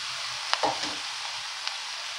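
Eggplant frying with softened onion in a pan for a vegetarian stroganoff, a steady low sizzle with a couple of brief clinks and a rustle as the pieces are stirred in.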